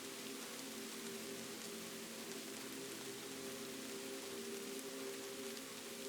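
Steady rain falls on a night in Kyoto, a soft, continuous hiss that stays even and quiet throughout, with a low hum underneath and no voices.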